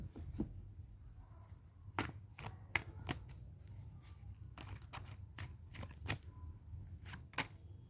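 A deck of tarot cards is shuffled, giving a series of faint, crisp riffling snaps spaced irregularly over a low background hum, with no talking.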